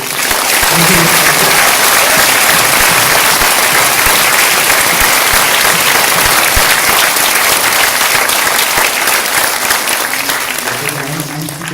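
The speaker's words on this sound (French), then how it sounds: "je voudrais juste qu'on applaudisse Rod parce qu'il a bossé 8 ans comme un malade" A cinema audience at a film premiere applauds Rod loudly: dense, roaring applause from a large crowd fills the room continuously, with faint voices and cheers mixed underneath.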